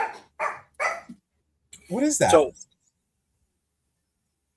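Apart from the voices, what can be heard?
Yorkie dog barking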